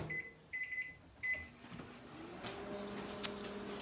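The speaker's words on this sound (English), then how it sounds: "I'm going to put it in the microwave for 5 minutes." A microwave oven, set for five minutes to heat chicken spaghetti, gives a few short beeps up close, then settles into a steady, low running hum that continues at moderate volume.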